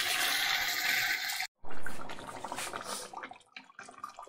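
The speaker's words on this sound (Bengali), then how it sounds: "এবার গরম জল দিয়ে দেবো মাংস।" Hot water poured from a vessel into a pan of mutton curry with potatoes, a continuous splashing gush that briefly stops, then resumes as bubbling, sputtering liquid settling into the sauce.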